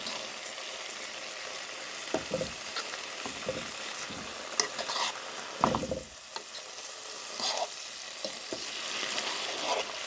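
Food being stirred with chili flakes in a hot pan, with steady loud sizzling broken by repeated scraping and clattering stirring strokes, close and without talk.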